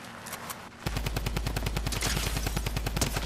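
A drum gun firing in Fortnite Chapter 2 Remix, a loud, rapid, unbroken burst of machine-gun shots in a steady fast rhythm that lasts about two and a half seconds after a short lead-in.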